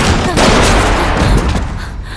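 A single loud, sharp gunshot bang with a booming tail that fades out over about two seconds.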